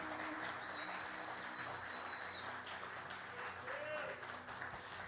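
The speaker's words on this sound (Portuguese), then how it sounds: "uma salva de palmas para o nosso pastor." A church congregation claps for its pastor during a service, a continuous, fairly faint patter of many hands heard at a distance, with a voice speaking over it.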